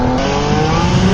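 Continuous loud engine roar from the FX Motorsports Development Acura NSX unlimited rear-wheel-drive time attack race car, a steady, near, high-revving drone that holds throughout with no talk.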